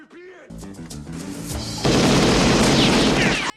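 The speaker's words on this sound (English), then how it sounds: "Screwface's gang attacks Hatcher's home, riddling it with bullets." Gunfire erupts in a film scene where a gang riddles a house with bullets: a sudden loud burst of rapid shots and booms following tense music, dense and close, continuing to the end.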